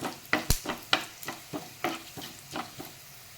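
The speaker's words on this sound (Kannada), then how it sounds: "ಈಗ ಮಸಾಲೆ ಸಾಮಗ್ರಿಗಳನ್ನೆಲ್ಲ ಹುರಿದುಕೊಳ್ಳುವ. ಸ್ವಲ್ಪ ಎಣ್ಣೆ ಹಾಕಿಕೊಳ್ಳಿ. ಕೊತ್ತಂಬರಿ ಬೀಜ ಸ್ವಲ್ಪ ಕೆಂಪಾಗಲಿ ಇದು." Coriander seeds and spices roasting in a little oil in a pan for horse gram saaru, with a spoon scraping and tapping in an uneven rhythm over a quiet sizzle, close and fairly soft.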